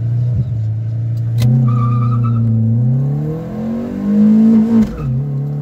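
A Fiat Uno Fire launches hard and accelerates, its engine revving loud and close, dropping in pitch at each gear shift and climbing again across the run, with no voices.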